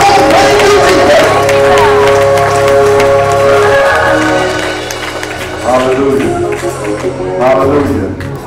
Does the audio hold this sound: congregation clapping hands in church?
yes